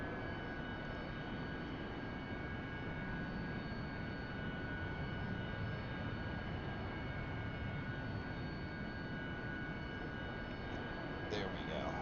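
F-16 jets taxiing on a runway in the DCS flight simulator, a steady broadband engine roar with a faint high whine held throughout at moderate level, no voices heard.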